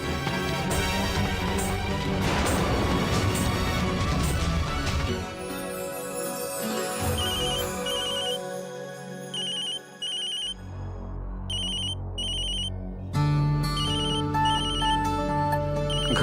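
A telephone rings in a domestic setting, a repeating electronic ringtone pattern over dramatic background music, bright chirping bursts recurring in short groups, no one speaking.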